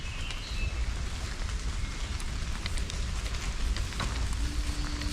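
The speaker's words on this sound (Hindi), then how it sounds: "हल्की हल्की बारिश हो रही है" Light rain patters through a dense German forest of tall, century-old trees, a soft, steady spray of drops on leaves with occasional sharper taps and a low background rumble.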